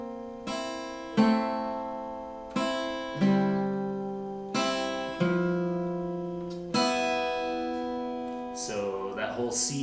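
An acoustic guitar slowly plays one measure of the intro to a song, with a string of distinct picked notes and chords ringing in a steady, unhurried rhythm, up close and alone.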